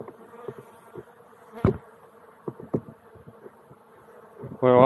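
Honeybees being shaken from hive frames make a steady, close buzz. Several sharp knocks and thuds of the frames cut through it, and a louder, higher swell of buzzing rises at the end.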